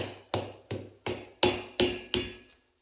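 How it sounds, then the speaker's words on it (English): Seven sharp hammer strikes on a metal part during a Toyota Hilux 3L engine rebuild, in a steady rhythm, each a bright metallic smack ringing briefly before the next, close by and alone. "Give it a couple smacks with a hammer."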